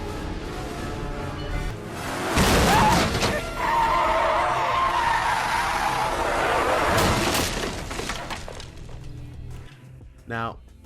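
Film scene from Jeepers Creepers with a souped-up rusty truck ramming a car off the road, bringing tire skids, a hard crash and screeching metal, with a voice talking over the noise.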